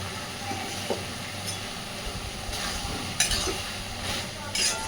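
Snake gourd stirred in a pan with a ground paste of mustard, poppy seeds and green chilli: a soft sizzle under scraping strokes and occasional light clinks of the spoon against the pan.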